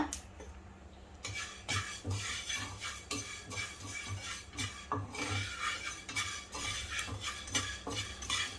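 Fenugreek seeds roasting in a pan while being stirred for Tamil Nadu style pulihora podi, close rhythmic scraping and clinking of a spoon against metal, repeated strokes with a soft background hiss.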